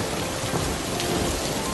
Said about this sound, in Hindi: इस बारिश से तो अब डर लगने लगता है